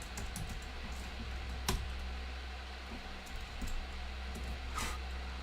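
Scattered keystrokes on a computer keyboard during a coding session, faint and irregular, with a few sharper clicks standing out over a steady low background hum.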